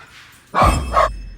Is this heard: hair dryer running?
no